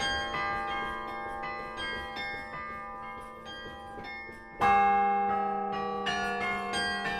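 Carillon bells at Park Abbey, a Norbertine abbey, ring a sustained melody of overlapping bronze tones, then a loud fresh peal of several bells strikes with long resonant decay.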